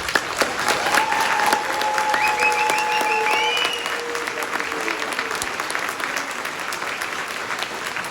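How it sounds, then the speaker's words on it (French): An evening show audience gives a performer a thunderous round of applause before a sketch, a sustained roar of clapping with a few tonal whistles and electronic tones ringing over it early on. "j'aimerais quand même qu'on lui fasse un tonnerre d'applaudissements pour lui donner un peu du cœur au ventre"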